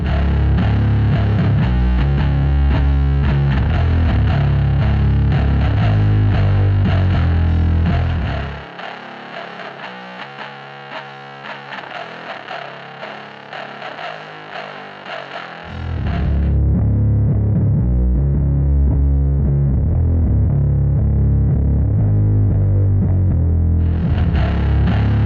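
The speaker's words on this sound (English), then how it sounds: "Here we use the technique with splitting up in one bass amp and one guitar amp and let them take care of the different frequencies" Heavy distorted bass guitar played through both a bass amp and a guitar amp at once, loud and steady, dropping to a thinner midrange-only stretch partway through before the full low end returns.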